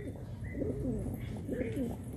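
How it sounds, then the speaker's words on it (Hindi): Soft, low coos of Bajre high-flyer pigeons repeat in two short rolling phrases against a constant background hum, close by and fairly quiet. "कबूतर,"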